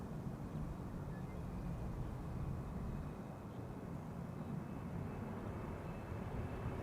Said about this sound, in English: United is coming this way with a 7878 Dreamliner